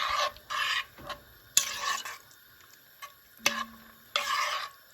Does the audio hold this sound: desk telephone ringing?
no